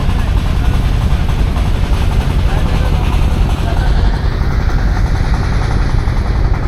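Houseboat engines drone loudly and steadily as boats set off on Tanguar Haor, a dense continuous rumble close by that fills the whole stretch, with someone talking over it.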